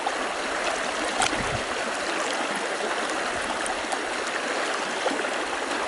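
Steady rushing stream water fills the scene as a gold pan of pay dirt is dipped and pulled, with faint sloshes riding on the constant near flow and no voices.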